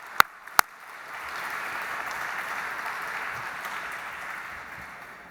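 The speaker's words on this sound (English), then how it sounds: "once again, another big round of applause" Two sharp claps ring out, then an audience's applause swells into a soft, steady wash of clapping at an opening evening, heard from a distance and fading gently at the end.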